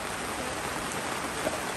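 Steady rain falls outdoors at a house doorway on a cold evening, a dense, even hiss of drops with no break across the short stretch.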